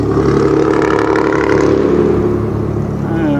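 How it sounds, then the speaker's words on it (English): A truck drives past at night near a camping spot, its engine a loud, steady close-range rumble and whir that holds through the whole stretch with no talk over it. "there goes a truck."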